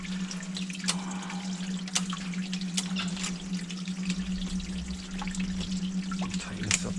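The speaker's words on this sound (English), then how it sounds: "Let this pump go through one more cycle before I pull it out of here and shove that snake in." A basement sump pump runs through a cycle with a steady low motor hum under trickling, dripping water and scattered sharp splashes, fairly close and without talk.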